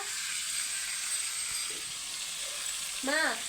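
Ginger and tomato-onion paste sizzles steadily in a curry pan while being stirred, a constant close frying hiss with a brief metallic scrape of the spoon near the end.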